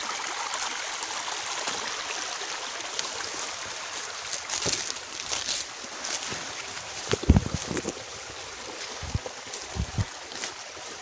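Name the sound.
small stream of water flowing downhill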